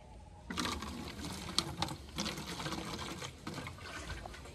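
Water splashes and trickles steadily into a container, a close, continuous pouring sound with small bubbling bursts throughout.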